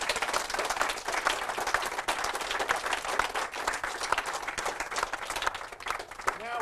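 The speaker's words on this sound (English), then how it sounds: "Let's give a big round of applause here." Sustained audience applause fills the room at a farm history talk, dense steady clapping from a crowd throughout, loud and continuous without a break.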